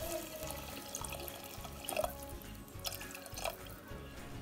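Water is poured into a pressure cooker of ghee-roasted dal with a pinch of salt, giving a soft, close trickling and splashing that stays faint and low throughout.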